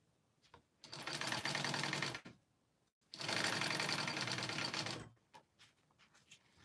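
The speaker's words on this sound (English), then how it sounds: "I'm just sewing all my connectors." A sewing machine stitching connectors runs in two steady bursts of rapid whirring, separated by a brief pause, with faint clicks and handling sounds before and after.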